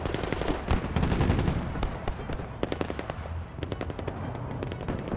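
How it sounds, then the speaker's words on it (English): Artillery fire thunders in the war video game Broken Arrow, a loud, dense barrage of rapid blasts and crackling bursts that rolls on without pause. "Ooh, actual artillery."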